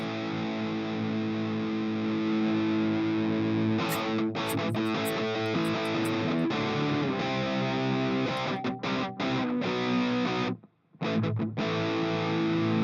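A heavily distorted electric guitar played through a Moorer 002 into a cabinet impulse-response box plays sustained chords and chugging riffs with a thick, amp-like tone, including a brief pause near the end.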